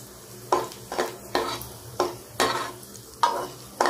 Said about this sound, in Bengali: এবার কিশমিশও এইভাবে ভেজে নেব।